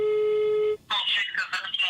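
A phone call rings out with one steady electronic ring tone lasting under a second. A voice answers and speaks right after it.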